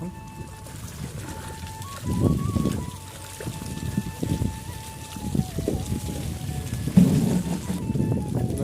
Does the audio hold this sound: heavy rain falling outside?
yes